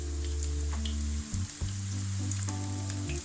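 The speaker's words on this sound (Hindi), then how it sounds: "मीडियम से हम आंच रखेंगे और इसी पर हम फ्राई करेंगे।" Sooji vegetable wraps fry in a pan over medium heat, giving a steady, close sizzle that runs throughout with a constant low hum beneath and a few brief clicks and shifts.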